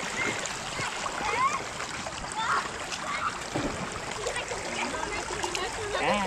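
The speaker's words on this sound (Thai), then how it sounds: "วันนี้มาเล่นน้ำ" Splashing in cold lake water at Thonon, France, soft sloshing and lapping splashes close by over steady water ambience, with a person's voice audible at times.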